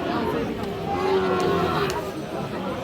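Sahiwal cattle at a busy livestock market, with a long low moo rising over a dense background of crowd chatter and people talking nearby.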